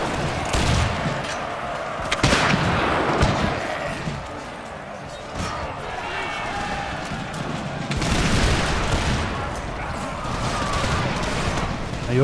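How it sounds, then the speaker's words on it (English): Musket volleys and artillery fire from an Empire: Total War battle, continuous rolling crackle with heavy booms and sharp slams, loud and dense throughout as massed infantry fire into musketeers. "Now you're firing ahead into those musketeers."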